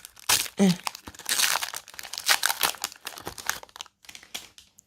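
A Korean Pokémon booster pack is torn open by hand, with quick crinkling foil and several sharp tearing rips, close and loud, with a brief voice murmur near the start.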